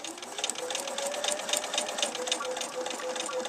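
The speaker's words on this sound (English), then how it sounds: "So I'm just going to start sewing." Sewing machine running continuously while stitching quilt binding strips together, a fast, even mechanical chatter heard up close with no voices.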